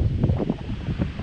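Cold wind gusts across the microphone at an open-air archaeological excavation site beside water, giving a low, rumbling buffeting roar in irregular puffs through the whole short stretch, with no voices.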